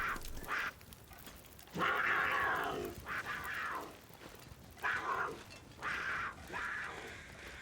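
A cougar in a video game gives repeated snarling growls and yowls in short bursts with gaps between them, fairly faint.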